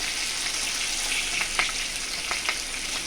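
Fish heads frying in hot oil in a pan, a steady close-up sizzle with a few brief crackles and stirring sounds over the constant hiss.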